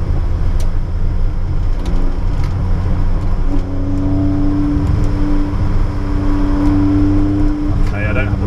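DeLorean racing on the Nürburgring Nordschleife, a steady loud engine drone with rising pitch under acceleration heard from inside the car, while the driver talks over it.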